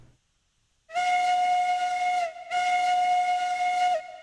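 A locomotive steam whistle in the Railroads Online video game gives two long, loud, steady blasts separated by a short gap, with breathy hiss under the tone.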